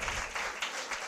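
A church congregation claps together in a short, dense burst of applause with a loose, repeating rhythm.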